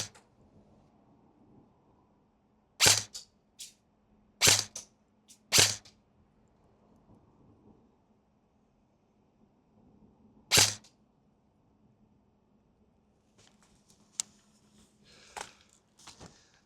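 Airsoft gun shooting at glasses, four sharp isolated cracks spaced seconds apart with quiet between, followed by faint light clicks near the end.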